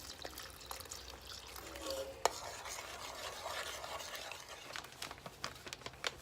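A spoon stirs milk in a pan as it thickens into bechamel sauce for bolognese lasagna, a soft continuous scraping with faint simmering, quiet and close, with one sharp clink partway through.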